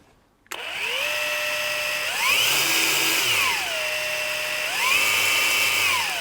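A cordless Ryobi R18PF file sander whirs to life after a moment of quiet, then holds a loud, steady tonal whine that climbs and dips in pitch as it changes speed, with abrasive belt rasp beneath.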